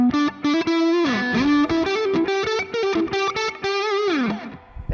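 Electric guitar on the neck pickup through a Mooer SD30i portable practice amp with a touch of reverb, playing a distorted, effected melodic lead line with bends and sustained notes, loud and up close with no talking.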